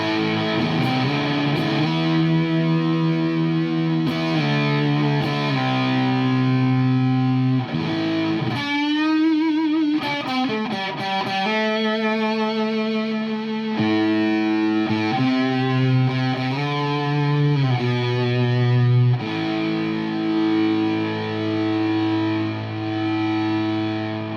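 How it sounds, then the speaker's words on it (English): Distorted electric guitar played through an early-circuit Sola Sound Tone Bender fuzz pedal, loud and sustained, with thick saturated chords and held notes, a brief sliding bend midway, and no talking. "the earliest version of the circuit that we've ever seen, and it's a wonderful contrast in sound to the germanium pedal"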